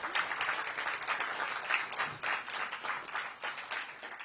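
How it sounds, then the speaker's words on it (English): Crowd at a violence interrupters graduation ceremony in Washington, DC claps for the graduates, a fairly quiet but steady wash of applause with individual claps standing out. "Give them a big round of applause."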